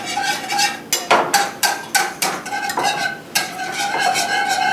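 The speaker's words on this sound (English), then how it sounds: "And then just start stirring it up." A spoon stirring béarnaise sauce in a pot, sharp repeated clinks and scrapes against the metal in an uneven rhythm, close and clear with no talking.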